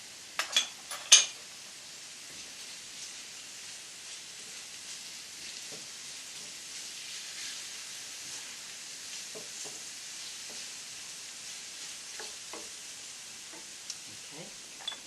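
Garlic frying in a paella pan for a seafood paella, a soft, even sizzle hissing quietly throughout, with a few small clicks and pops near the start.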